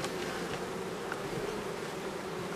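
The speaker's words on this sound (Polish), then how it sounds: "Widzicie, co pszczoły robią z nowymi plastrami." Honeybees swarm over fresh new combs inside a hive, a dense, steady, close buzzing hum that holds unbroken throughout with no voices.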